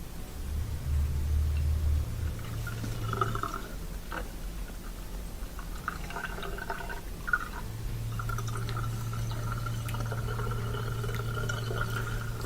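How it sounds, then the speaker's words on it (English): Water from a KitchenAid dishwasher drains into a kitchen sink in a steady gurgling rush, with a low droning pump tone that pauses midway and resumes, plus a few small drips and clinks close by. "And now I'm just listening to it at the sink draining."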